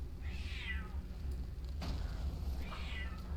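A cat meows twice, a drawn-out cry near the start and another near the end, fairly faint over a low steady background hum.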